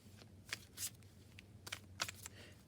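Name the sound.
shuffling a deck of cards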